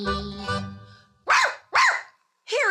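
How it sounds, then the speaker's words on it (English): A dog barks on a vintage Disney Mother Goose children's record: three sharp, close woofs with short pauses between them, following a held sung note. "Here he is now, says the dog"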